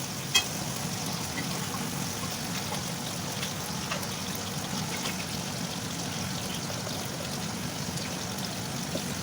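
Three medium onions and five slit green chillies fry with a little salt in a pan. A steady, close sizzling hiss runs unbroken throughout.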